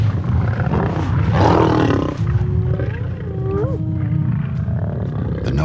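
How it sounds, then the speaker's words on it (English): Lions and hyenas clash at a kill in a feeding frenzy, a dense, loud din of growls, roars and rising whooping calls layered over one another, with no speech. "Because Matsumi is weaker, she has to struggle to fight her way into the feeding frenzy"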